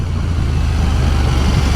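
A KTM 890 Duke GP motorcycle engine pulls hard under acceleration, a steady loud low-pitched drone that holds constant and close with no voices.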